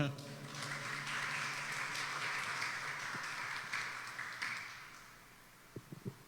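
A church congregation at a Wednesday evening service applauds in praise, a dense wash of clapping that holds steady for several seconds and then thins to a few scattered claps.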